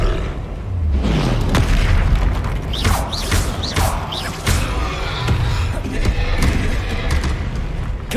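Hogwarts Legacy video game combat with the Incendio fire spell, a dense roar of booming blasts, whooshes and thuds from spellcasting and a troll fight, loud and continuous with game sound layered throughout.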